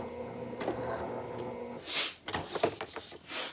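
A sewing machine stitches handbag fabric, producing a steady mechanical whirr that breaks off midway, followed by a few shuffling fabric handling sounds and short bursts of stitching.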